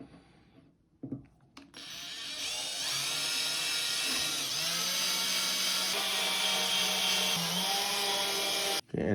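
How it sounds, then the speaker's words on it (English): A power drill bores pilot holes in a 3D-printed DIY proton pack, one continuous high whine lasting several seconds after a brief start, close and loud with no talk. "we're going to go ahead and drill these holes"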